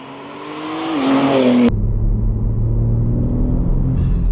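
A BMW G81 M3 fitted with a Mode Auto Concepts twin intake revs up with a rising, throaty intake roar, then abruptly drops to a deep, steady rumbling idle.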